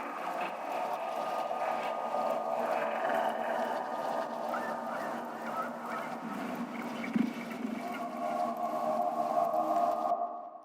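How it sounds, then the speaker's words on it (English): Atmospheric effects from a tech house breakdown swell in a sustained, airy wash with sonar-like tonal pings and a watery shimmer, steady and moderately loud before cutting off abruptly at the end. "So the effects in the breakdown section sound a bit like this"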